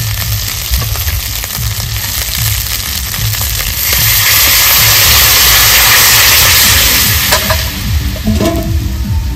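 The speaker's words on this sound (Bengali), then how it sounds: "আদা জিরা ভাজা খুব সুন্দর একটা সেন্ট বেরিয়ে গেছে। এবার আমি দিয়ে দেবো মাছের ঝোলটা।" Katla fish curry is poured into a pan of sizzling fried ginger and cumin, giving a steady loud frying hiss that swells into a stronger sizzle midway, with stirring clatter throughout.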